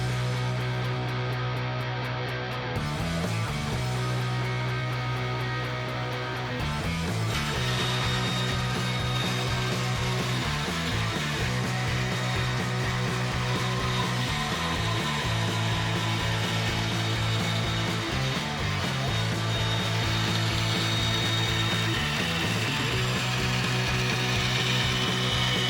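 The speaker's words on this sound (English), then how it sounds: "next up we're going to take this blank to our bandsaw and cut right outside the line" A bandsaw cuts a skateboard blank just outside a traced line, a steady loud motor hum with a grinding blade rasp that dips and surges in pulses as the board is fed through, with no talk.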